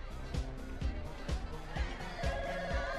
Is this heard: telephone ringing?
yes